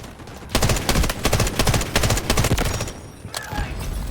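An artillery barrage in the video game Delta Force Hawk Ops comes through as dense, rapid bursts of loud gunfire. Overlapping shots crackle for about two and a half seconds, then a few scattered reports follow as the barrage fades.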